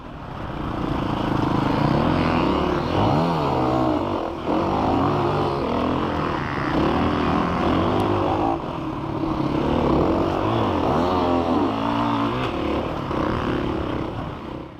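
A KTM 500 EXC dirt bike races around a rough, demanding course, its engine loud and close throughout, rising and falling in pitch as it accelerates and backs off, with a brief dip between surges.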